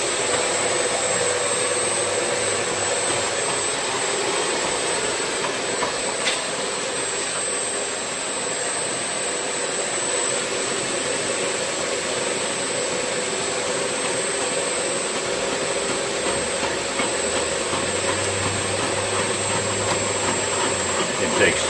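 An Olds powder and bulk elevator runs with its rotating casing, producing a steady, loud mechanical roar and whir that holds unbroken from start to finish, with faint rattling of material inside.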